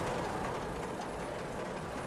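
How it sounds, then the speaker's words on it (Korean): Train travelling from Marseille to Paris, heard as a continuous broadband rumble and rushing noise from inside or near the moving carriage, steady and even throughout with no voices. "1893년 5월 4일, 리진과 꼴랭드 플랑시는 마르세유에서 파리로 가는 기차를 탄다"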